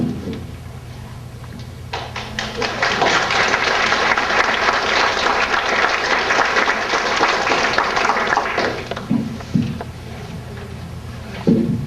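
An audience at an afternoon concert at the Covington in L.A. breaks into sustained, dense applause lasting several seconds, then thins out into a few scattered claps.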